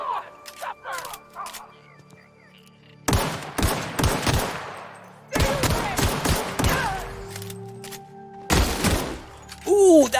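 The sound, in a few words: gunfire from the video game The Outer Worlds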